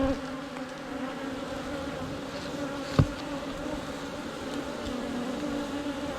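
Honeybees drone steadily in a top bar beehive, a constant close buzzing hum that runs the whole time, with one brief soft knock partway through.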